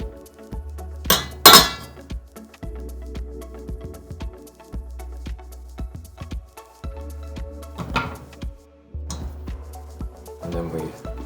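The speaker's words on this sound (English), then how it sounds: "next we're going to take our flour and we're going to sift this" Flour is sifted into a spiced brownie mixture, heard as a run of light metallic clinks and taps from the sifter, fairly close, with a few sharper knocks and soft rustling between.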